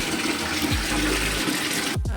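Rain falls and water runs and splashes close by in a steady rushing stream, with a few low gurgles as it pours along, and no talking.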